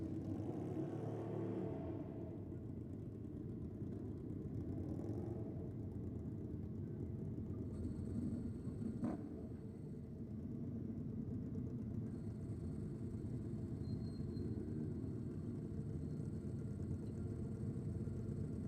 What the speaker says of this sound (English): And that is Cheryl Beddoes down there in the rocket lane on board her Harley Davidson